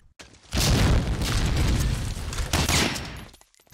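A grenade goes off in Medal of Honor: Allied Assault during a realism cup match, a loud booming blast after a brief quiet, then a long sustained roar of explosion and gunfire that fades out near the end.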